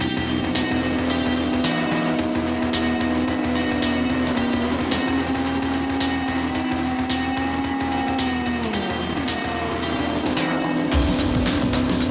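A Mega Shed drag racing bike does a burnout at a Super Street Bike summer nationals drag meet, its engine holding a loud, steady high-revving drone with tyre noise before the pitch drops away near the end.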